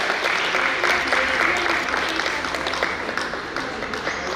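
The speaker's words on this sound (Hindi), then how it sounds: "तालियां कम नहीं होनी चाहिए।" An audience at a yoga class applauding in an indoor hall, dense steady clapping from many hands that holds for the full few seconds and fades only slightly toward the end.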